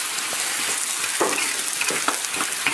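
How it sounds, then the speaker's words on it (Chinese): Chopped duck and plenty of ginger are stir-fried in a large wok in a Sichuan worksite canteen kitchen: a constant loud sizzle broken by repeated rhythmic spatula scrapes and tosses, with no talking. "刚剁好这个鸭子，然后这边就开始炒制。"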